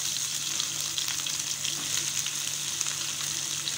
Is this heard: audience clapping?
no